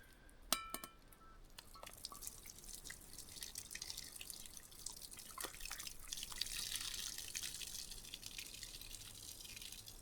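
Cooked pasta tipped into a colander at a wild camp in Scotland, with water draining and dripping, faint clinks and a light steady splashing that keeps going for several seconds.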